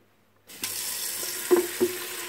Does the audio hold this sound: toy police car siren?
no